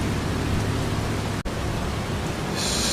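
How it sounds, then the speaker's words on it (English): Steady rain falls in the video game Farming Simulator 25, a dense, even hiss that carries on without a break, with no voices. "Still raining and still snow on the ground"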